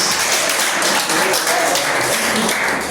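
A church congregation applauds during a praise and worship service, loud continuous clapping filling the room without pause.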